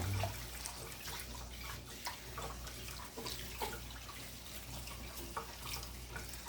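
Water runs and splashes as rice is rinsed for fried rice, a continuous faucet-like flow with irregular sloshing and drips close by, no talking.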